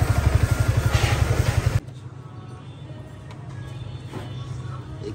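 A rebuilt Yamaha R15 V3 motorcycle engine runs with a loud, rapid, even pulsing for nearly two seconds, then drops to a quieter idle murmur.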